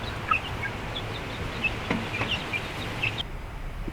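Olive egger chickens, first-generation Welsummer and Whiting True Blue crosses, cluck and chirp in scattered short calls over a steady outdoor background hiss.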